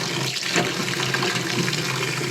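Sago pearls swished and washed by hand under running water, a steady close splashing and trickling that continues without pause and with no talking.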